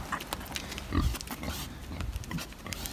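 Pigs grunting and oinking at a roadside spot in Australia where pigs are given beer, several short snorts scattered over a noisy outdoor background.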